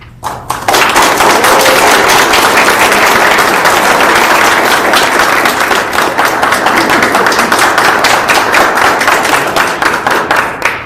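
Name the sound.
applause for newly sworn-in council members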